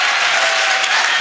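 Dense, loud audience applause at an evening poetry gathering, steady clapping from a large crowd close by, continuous throughout with no voices.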